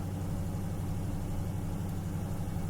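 A 2017 Dodge Charger Hellcat engine idles with a steady, deep low rumble, constant and even with no revving, heard alone without voices.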